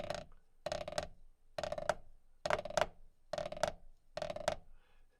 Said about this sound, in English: a closed roll has more of a close, tight buzzing sound like this.